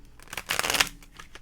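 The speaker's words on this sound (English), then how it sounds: "I forgot to shuffle your cards before I started" Tarot cards are shuffled in one quick, close burst of papery riffling and flicking, rising to a brief crisp flurry and then trailing off into faint rustles.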